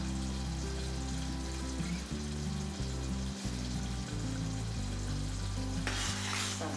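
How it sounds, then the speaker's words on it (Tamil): Lentil rasam simmers in a pot as it starts to bubble and is gently stirred with a ladle, giving a steady soft hiss and sizzle beneath continuous background music. "அங்கங்கே பபிள்ஸ் வர ஆரம்பிக்குது, கொதி பபிள்ஸ் வர ஆரம்பிக்குதுப்பா"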